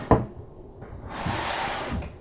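Wooden shop-made drawers slide open and shut nearby, a brief knock followed by a soft rushing glide and a muted thud, with no talking.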